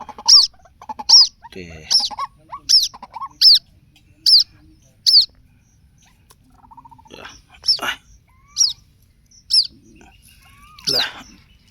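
A small pet bird chirps in a repeated series of sharp, high tweets, about eight in quick rhythm, then a pause and a second burst of calls, close and fairly loud with no talk over it.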